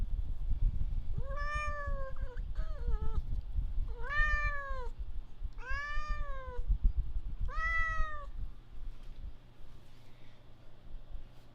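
A cat meows four times, clear and close, each call a drawn-out rising and falling cry separated by short pauses, over a low background rumble.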